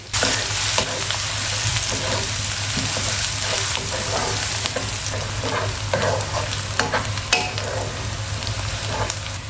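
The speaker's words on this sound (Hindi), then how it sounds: "अब इसमें हम डाल देंगे प्याज। इसमें मैंने ये खड़े मसाले डाले हैं, दालचीनी, जीरा, काली मिर्च, लौंग और कलवंजी।" Sliced onions and whole spices (cinnamon, cumin, black pepper, cloves, nigella seeds) fry in a pan for an egg and spinach dish, with a steady loud sizzle and frequent scraping stirs, alone without talk.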